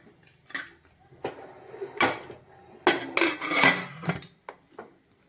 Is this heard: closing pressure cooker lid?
yes